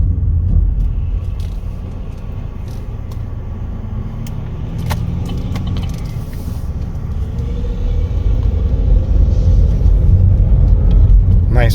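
A 2020 Chevrolet Equinox LS engine hums and rumbles steadily as it drives along a road, heard from inside with low road noise throughout.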